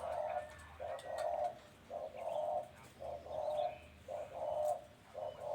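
A dove coos in repeated phrases with short pauses between them, fairly faint against quiet outdoor background noise.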